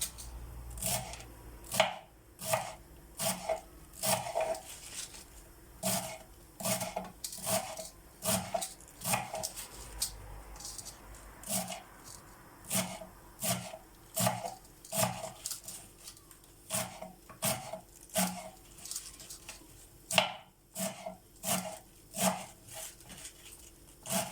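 Steady knife chopping of tirşik greens on a cutting board, a quick run of sharp, even taps with brief pauses, close and clear with no talking.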